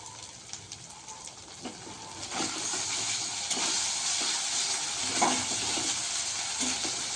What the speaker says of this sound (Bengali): সব কিছু এবার একসাথে কষে নেব।